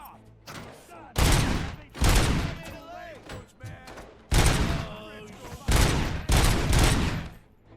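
Gunfire in the video game Robocop: Rogue City, with several loud, dense bursts of shots spread across the span and quieter in-game rumble and tonal sounds between them.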